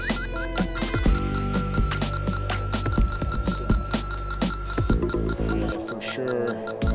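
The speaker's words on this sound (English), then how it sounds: "again, you can hear the leak detector going off." A refrigerant leak detector gives steady, insistent electronic tones during an HVAC leak search. The tones run through the whole stretch amid a busy clutter of clicks and handling noise close to the microphone.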